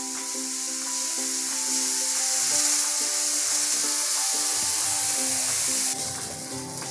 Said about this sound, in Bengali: এখন পেঁয়াজ মরিচটা আমি হালকা একটু ভেজে নিচ্ছি।